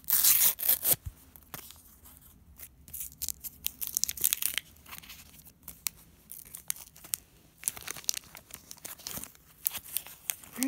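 A sticker peels off a sports card pack, giving close, irregular bursts of crinkling and tearing plastic with short pauses between them.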